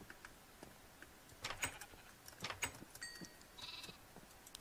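Sheep in a video game give several faint, short bleats scattered over a few seconds against a quiet background, with soft clicks between them.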